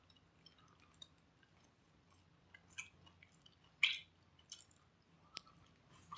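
Fried cauliflower stalk, potato and bean fritters chewed close up, with faint, irregular soft crunches and squishy bites spread across a quiet stretch, and no talking.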